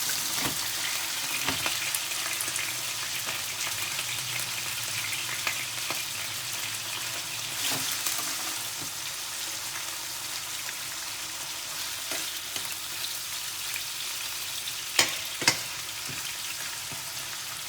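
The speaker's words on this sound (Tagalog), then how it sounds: "Ako sa fried gamay ang chicken." Chicken frying in a pan for a Filipino chicken stew, a continuous loud sizzle with occasional sharp pops and clatters.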